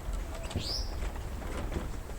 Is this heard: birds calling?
yes